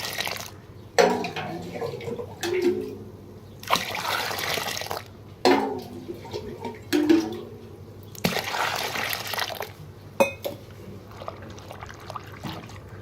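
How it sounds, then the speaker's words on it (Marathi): Wheat grains are washed by hand in a vessel of water, with several bursts of swishing and splashing separated by short quieter pauses, close by. "आता आपल्याला हे गहू व्यवस्थित धुवून घ्यायचे"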